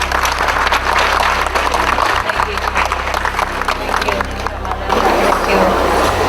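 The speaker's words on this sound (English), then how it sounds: "Please give her a big round of applause." Audience applause and crowd noise fill a hall as the Supreme Master Ching Hai is welcomed at a peace event, steady and loud throughout, with a low hum beneath.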